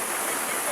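Very heavy rain pours down steadily, a dense, loud hiss with no break or rise and no voices over it.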